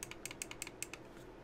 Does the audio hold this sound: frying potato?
no